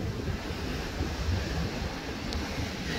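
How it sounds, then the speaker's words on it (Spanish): Strong wind buffets the microphone at a night shoreline while sea waves roll and wash in with a constant roar, loud and close, with no voices. "Hace muchísimo, muchísimo viento."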